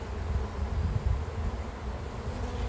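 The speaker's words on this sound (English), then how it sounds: "but there's so many bees." Honeybees buzz at an open beehive during hive inspection, a dense, close, continuous droning hum that stays steady throughout with no talk.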